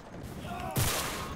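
A burst of fully automatic weapon gunfire in the World War II shooter game Enlisted, a sharp loud broadband blast rising out of steady background game noise.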